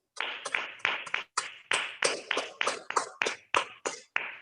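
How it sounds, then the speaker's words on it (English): Participants in an online Toastmasters meeting applaud, heard as a series of about fifteen sharp, evenly spaced claps from a single close source, each separated by brief silence. "Please help me with a thunderous round of applause"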